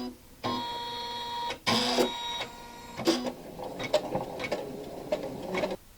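An embroidery machine stitching a small felt cupcake, with a steady mechanical whir and chatter in bursts, separated by brief pauses and a few clacks, close by.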